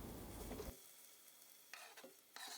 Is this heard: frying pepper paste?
yes